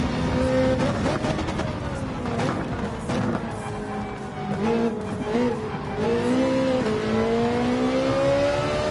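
Race car engines in Gran Turismo 7 rise and fall through gear changes, their tones sweeping up and down at close range, with tire squeal and skidding mixed in during a tight online battle.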